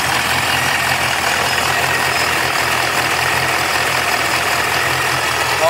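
Custom GTO engine with braided lines welded to the valve covers and a splitter, running boosted at about 3 psi, idling steadily and loudly up close throughout with no talk.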